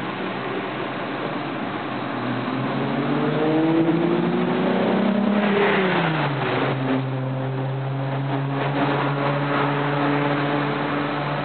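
A Ford F-250 XL Super Duty pickup engine revs up, its pitch climbing and then dropping back to a steady idle hum with no knocking, close and continuous.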